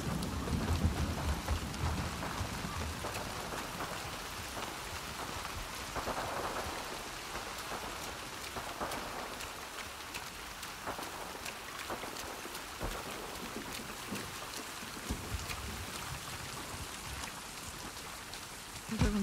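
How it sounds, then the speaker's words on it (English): In The Last of Us Part II, heavy rain pours steadily on surfaces with low rumbles of thunder, a dense, continuous storm wash throughout. "Got a big storm coming in here."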